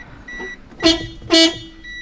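A Hyundai Creta horn fitted to a Maruti Alto K10 car gives two short, loud honks about half a second apart, with a quiet background between them.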